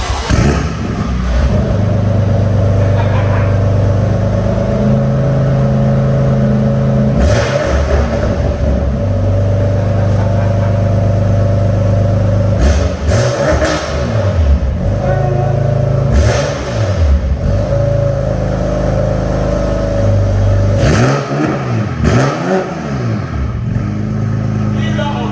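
A BMW F80 M3 with its S55 engine fires up and revs repeatedly, loud rising and falling blips over a steady idle, close and dominant for the whole stretch.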